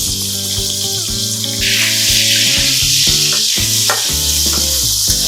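Cubes of paneer fry in a pan of ghee with a little white oil, giving a steady bright sizzle throughout, partly under tuneful background music.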